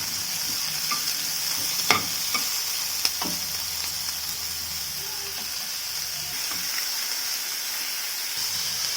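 Onions fry in oil in a pan with a continuous, close hissing sizzle, broken by a few sharp spoon-on-pan clinks and stirring scrapes.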